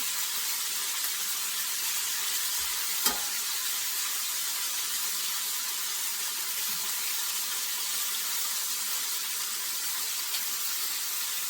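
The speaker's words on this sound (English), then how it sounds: "We don't want to cook the meat. We want to sear it" Beef searing in a pot while being browned on all sides for canned stew, giving a steady, even broadband sizzle that holds at a constant level throughout, with one brief soft knock partway through.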